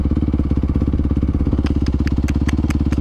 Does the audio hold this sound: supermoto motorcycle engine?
yes